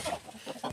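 A chicken gives a few quick, soft clucks close by, in a brief burst.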